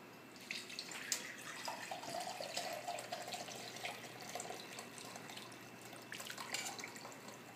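Homemade chicken broth poured through a fine mesh strainer, a soft, continuous liquid splashing and trickling close by, fairly quiet and alone with no talk.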